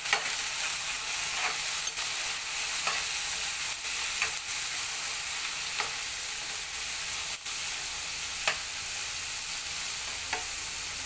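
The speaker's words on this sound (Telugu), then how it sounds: "ఇప్పుడు ఇవి కలుపుకుందామండి ఆయిల్లో కలిసేలాగా" Eggplant and chana dal sizzle and fry in oil while being stirred, a steady broadband hiss broken by regular scraping strokes of the spoon, close and moderately quiet with no talking.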